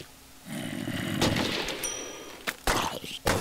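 Guns firing in the Minecraft Zombiecraft game, with a few sharp, loud shots near the end after a stretch of rising noise.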